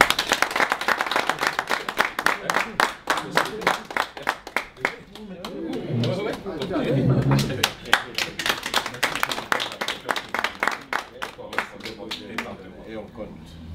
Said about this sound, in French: M. Kilonda Géry, que je demande d'applaudir